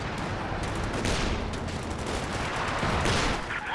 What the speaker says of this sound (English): A nice G barrage out the back, softening up that 50 cal